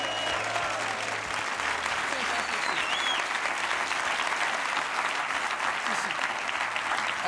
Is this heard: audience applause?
yes